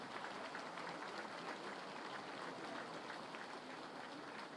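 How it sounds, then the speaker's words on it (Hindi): Crowd applause for soldiers at an Independence Day ceremony in Madhya Pradesh: a dense, steady wash of clapping from a large gathering, sustained evenly throughout with no voices over it. "एक बार अपने जवानों का तालियां बजा के अभिनंदन कीजिए"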